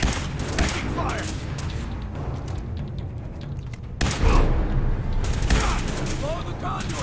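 Rapid gunfire crackles through a battle in the video game Fallout 4, with dense overlapping bursts of shots near and far and a sharp surge of louder fire partway through, while voices shout over the combat.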